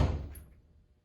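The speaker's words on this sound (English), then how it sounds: "I'm simply going to say oops and close the door." A door closing with a soft thud near the start, at close range in a quiet room, with the sound trailing off into low rumble and silence; no voices.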